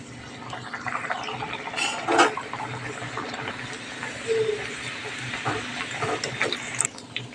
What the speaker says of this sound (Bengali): না লুচি ভাজা হচ্ছে।